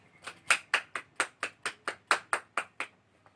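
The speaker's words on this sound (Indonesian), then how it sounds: "Silahkan beri tepuk tangan." Classroom applause from a small group, about a dozen evenly spaced, crisp unison claps in a steady rhythm, close and clear with no talking.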